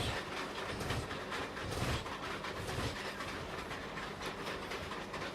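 A Bombardier M7 commuter train rolls past with a loud rushing roar and rhythmic clickety-clack of wheels over rail joints, close and steady, with no voices.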